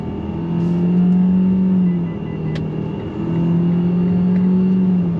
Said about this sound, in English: We're going on throttle in this Eclipse Cross.